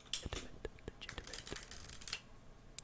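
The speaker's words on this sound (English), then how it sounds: "when I shuffle the deck in the video, it's a little bit more quiet, like so" Someone shuffles a deck of playing cards up close and quietly, giving a string of soft, crisp riffles and flicks in quick bursts.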